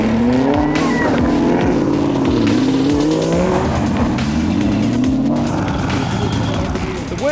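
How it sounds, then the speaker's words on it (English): A factory Toyota Gazoo Racing rally car on a Free State country road during the Harrismith 400 rally, engine revving and climbing through gears, loud and continuous, with commentary talking over it. "the honour of opening the road belonged to the factory Toyota Gazoo racing squad of Henk Latergan and co-driver Barry White."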